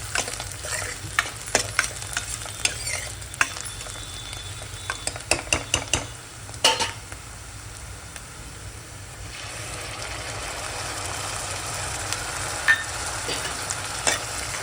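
Browned onion with a bay leaf fries in a pan, a close, continuous sizzle broken by a run of quick stirring scrapes and clinks early on, then settling into a steadier hiss.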